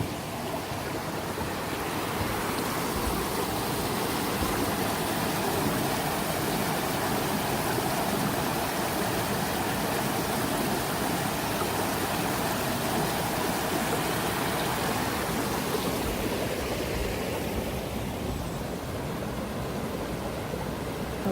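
A clear stream flows beneath a bridge in Prompton State Park, giving a steady, full rushing of water that stays constant throughout with no voices.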